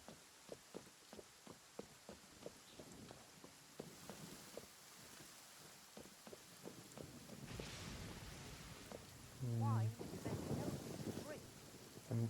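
Rain pours steadily in a Genshin Impact thunderstorm, first with a regular patter of close drops, then heavier and rougher with wind, while a loud low rumbling burst of thunder arrives near the end.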